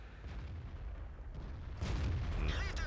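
Tank cannon shot in World of Tanks on the Ruinberg map, fired from a T32: a heavy low boom kicks in partway through over rumbling engine noise, loud and close.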